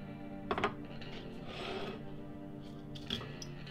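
Inspiron 15 5000 Series laptop hard drive being slid out of its holster bracket, heard as a few brief close scraping and clicking rubs against a steady low background hum.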